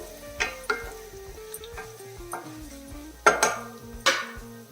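Curry leaves sizzle in hot oil, with several sharp clinks of a utensil against the pan over a soft background melody and no talking.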